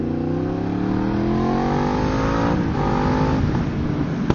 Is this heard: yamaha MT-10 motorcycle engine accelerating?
yes